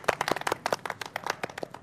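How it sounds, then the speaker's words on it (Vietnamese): A small group gives a short round of applause at a gathering of the Chru ethnic community, quick irregular hand claps that are moderately close and fairly quiet, with no talking over them. "thôi cho một tràng vỗ tay."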